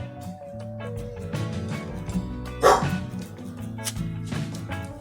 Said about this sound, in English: Please excuse my dog for barking at someone walking down the street.